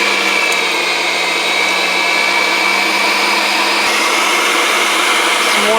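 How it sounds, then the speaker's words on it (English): Electric meat grinder grinding bacon alongside partly frozen pork, a steady loud motor whine with a constant buzzing hum running unbroken throughout, no voices. "Grinding up some bacon."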